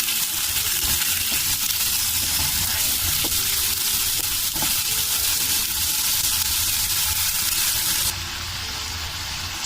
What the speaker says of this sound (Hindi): चिकन को वाइट होने तक मैं फ्राई करूंगी